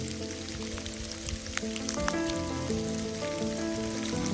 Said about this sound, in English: it's not snow, but it's sleet